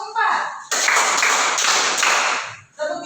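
A class of students claps a counted rhythm in a classroom, a burst of dense, sharp hand claps lasting under two seconds, set between short spoken prompts from a teacher's voice.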